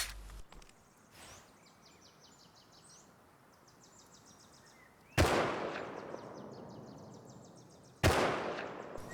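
Gunfire in the survival game Rust around a stone-and-metal base: two loud, sharp shots several seconds apart, each with a long echoing tail, over a quiet outdoor bed of birdsong and insects.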